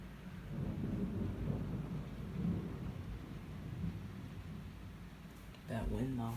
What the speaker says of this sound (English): It's raining moderate right now, but the wind is like picking up too.